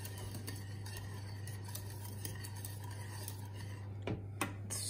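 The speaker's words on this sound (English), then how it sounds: "gradually mix it so it gets thicker" Faint spoon scraping and light clinks as biscuit dessert cream is stirred in a pot on the stove, quiet over a steady low hum.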